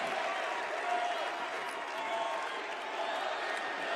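A crowd at an RFK Jr. rally, heard as a replayed recording, gives off a steady, fairly faint wash of cheering and applause that stays even throughout.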